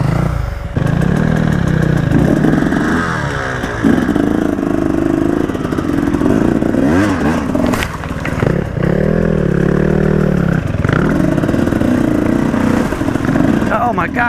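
A 450 motorcycle engine revs and idles up and down while riding, loud and close, with clattering mechanical noise and a rider talking over it at times.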